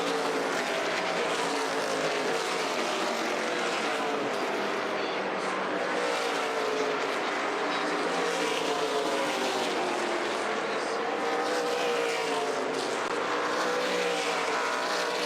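Race cars lap Five Flags Speedway in Pensacola during an ARCA Menards Series East race, their engines merging into a steady, loud roar that never lets up.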